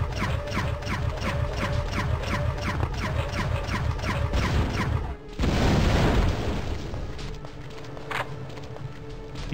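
Rapid-fire plasma turret in the game Terminator: Future Shock, a fast run of regular pulsing shots for about five seconds, then a loud booming burst and rumbling impacts that fade into quieter game noise.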